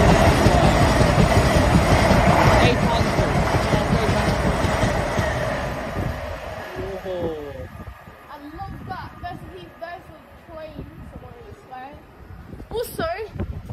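A Class 800 train passes Ealing Broadway station, a loud rushing rumble close by that fades gradually, with people talking over the later part.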